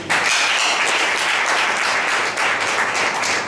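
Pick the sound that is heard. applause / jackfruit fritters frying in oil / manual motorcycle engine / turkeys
applause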